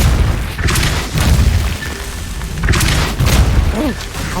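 Casting the Depulso spell in Hogwarts Legacy brings loud, deep booming bursts, two heavy blasts a couple of seconds apart over a dense layer of game sound.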